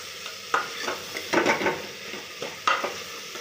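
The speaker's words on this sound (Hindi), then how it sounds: "बस इसको अच्छे से जो है मिला लेना है।" Vegetables for a no-garlic, no-onion fasting curry being stirred in a pan, with a spoon scraping and clattering in several distinct strokes over a light sizzle, close and moderately loud, no talking.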